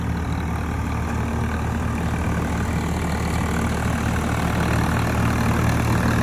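A Swaraj 855 5 Star 4WD tractor engine idles steadily, a low continuous diesel rumble heard up close with no speech over it.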